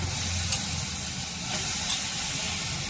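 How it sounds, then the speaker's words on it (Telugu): Eggplant pieces frying in a pan of masala and oil, giving a steady, close sizzle that holds even from start to finish with no voices. "ఇప్పుడు మనం వంకాయ ముక్కలు వేసేసుకున్నాం."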